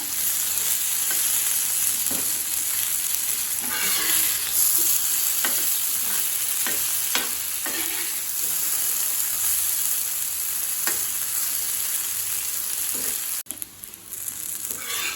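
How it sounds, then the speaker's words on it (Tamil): Raw plantain slices coated in masala fry over a medium flame, giving a continuous dense sizzle with intermittent scraping stirs and clicks against the pan, close up and steady until a sudden drop near the end. "ஸ்டவ்வை மீடியம் ஃப்ளேமில் வச்சுட்டு நல்லா ஃப்ரை ஆகிற வரைக்கும் வெயிட் பண்ணுங்கள்."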